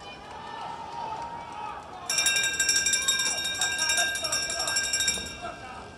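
Last-lap bell at a masters track cycling world championship sprint race, rung in a rapid continuous ringing that starts abruptly and runs for about three seconds over the indoor velodrome crowd and announcer talk.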